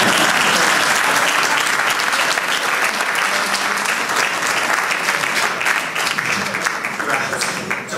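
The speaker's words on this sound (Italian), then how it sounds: "Un applauso, amore." Sustained, loud crowd applause fills a Movimento 5 Stelle political meeting in Legnano, a dense continuous clapping that tapers slightly toward the end.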